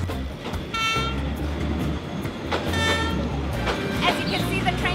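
A train squeezes through a narrow Hanoi street lined with cafes and homes, its loud, low rumble and rattling wagons close by, with horn toots and excited voices heard over it.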